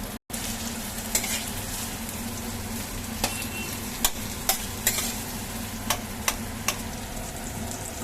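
Cashews and chillies fry in a pan with a steady close sizzle, punctuated by several sharp clicks of a utensil stirring against the pan.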